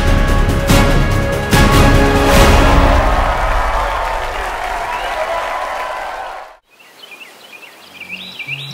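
Guests at a traditional Vietnamese wedding ceremony break into loud, dense applause that holds steady for about six seconds before dying away, leaving faint bird chirps in the quiet afterward.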